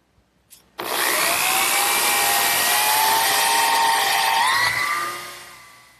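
A power drill bores 3/8 inch dowel holes into the underside of a wooden trestle table, starting abruptly after a moment of quiet and running as a loud, steady whine that winds down at the end.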